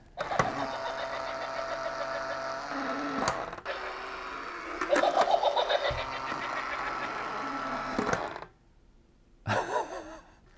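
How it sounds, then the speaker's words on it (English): A thrifted Halloween ghost decoration runs its very noisy motor, a loud mechanical whirring and grinding with clicks, pausing briefly before starting up again near the end. "Very noisy motor on it."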